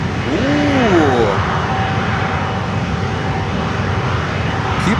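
An airliner on the runway at Miami airport, a broad steady jet engine roar with a brief rising and falling whine near the start, heard under a person speaking excitedly.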